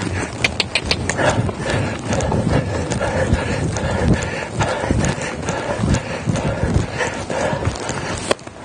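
Hooves clip-clop in a steady two-beat trot from a five-year-old dressage horse being ridden in a clinic, close and continuous, with faint creaks of tack alongside.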